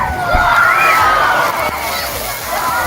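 A big splash and slosh of water from someone jumping hard into a pool, followed by continuing churning water under crowd noise and a speaking voice.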